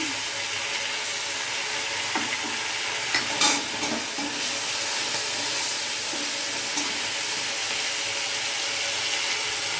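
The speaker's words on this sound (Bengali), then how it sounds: "এবার একটু ভাজা ভাজা হয়ে গেছে এবার এক চামচ আদা বাটা দিয়ে দিচ্ছি" Ginger paste hitting hot oil with frying paneer for veg chilli paneer, a steady close sizzle with a few scraping stirs of the spoon against the pan partway through, no voices.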